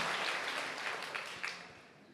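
Church congregation clapping during a worship service, a broad steady wash of applause that holds level and then gradually fades, with no voices over it.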